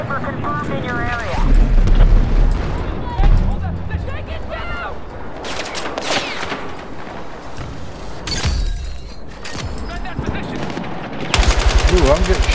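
Gunfire in the Battlefield 6 video game: loud bursts of automatic weapon fire and heavy booms on an urban battlefield, close and distant shots overlapping, with a player talking over the combat.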